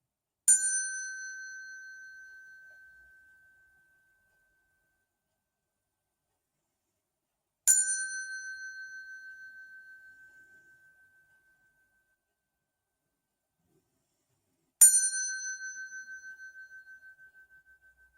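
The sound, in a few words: bell rung for sound cleansing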